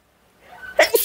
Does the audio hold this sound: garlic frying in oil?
no